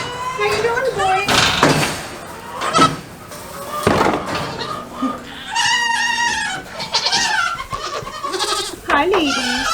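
Goats on a homestead bleat loudly and repeatedly at close range in a barn on a hot morning, several animals calling over one another while a person talks between the cries.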